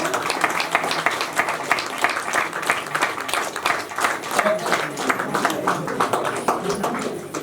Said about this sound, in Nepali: हामी ताली बजाइदेऊ